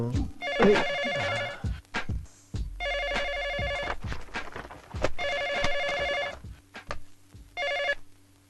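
A telephone bell rings in repeated bursts, loud and close, with short gaps between rings and some shuffling movement underneath.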